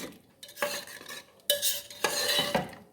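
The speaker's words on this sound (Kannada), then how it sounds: "ಎಲ್ಲವನ್ನು ಚೆನ್ನಾಗಿ ಮಿಕ್ಸ್ ಮಾಡ್ಕೋಬೇಕು" Kerala-style vegetable stew stirred in a pot, a spoon scraping and clinking against the metal in several uneven strokes with soft bubbling between, close and moderately loud, no voices.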